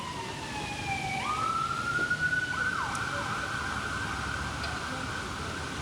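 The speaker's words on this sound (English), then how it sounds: "I'm used to the ambulance, so we're just going to wait a second" An ambulance siren wails along a Boston street, its pitch rising and sliding, then holding as a steady tone while it passes, over a continuous rumble of city traffic.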